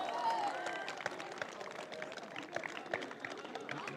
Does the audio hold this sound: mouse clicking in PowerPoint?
no